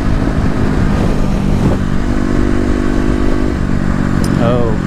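Kawasaki KLX250 motorcycle with tuned fuelling pulling hard uphill, a loud continuous engine drone that climbs in pitch, with a rider's voice talking over it.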